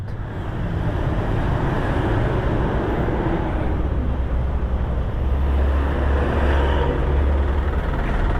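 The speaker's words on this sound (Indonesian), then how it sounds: "Wow, ternyata semacet ini ya di pagi hari." Dense morning road traffic on a congested national road near Padalarang, West Java, with a steady broadband rumble of idling and creeping cars, trucks and buses close by, continuous throughout without any talk.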